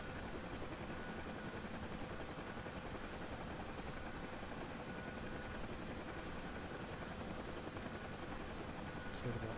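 A search and rescue helicopter hover taxiing, its rotor and engine roar a steady, unbroken wash of noise throughout, with faint voices underneath.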